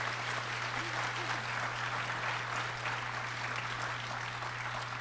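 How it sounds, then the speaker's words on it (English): A live audience at a community opioid discussion breaks into sustained applause, dense steady clapping from many hands that holds at an even level throughout, with no speech over it. "he deserves a round of applause for that"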